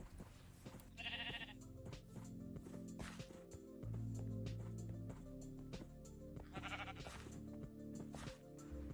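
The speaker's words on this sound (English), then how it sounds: "Next, it was the sheep," Sheep in the video game Minecraft bleat twice, a few seconds apart, over quiet background game sounds and soft clicks, faint and without talking.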